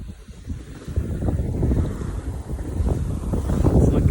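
A sailboat on a solo Atlantic crossing moves along at 5.8 knots in a 10-knot breeze, with a continuous low rush of water and wind buffeting the microphone, fairly close and steady throughout.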